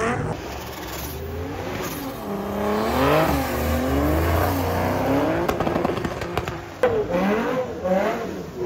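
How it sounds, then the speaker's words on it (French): A drifting car at a fair revs its engine in repeated rising and falling sweeps, loud and nearby, with bursts of crackle and tire noise toward the end and a little faint talk underneath. "on va aller voir un petit peu ce drift là"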